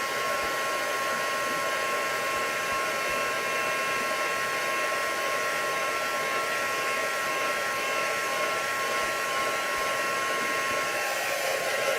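A hair dryer runs steadily and loudly on stenciled artwork, holding one unbroken whooshing blow with no pauses and no talking.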